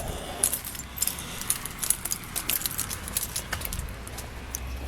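Car keys jangle and clink in quick, irregular bursts close by, bright metallic rattles repeating for several seconds over a low background hum, with no talking.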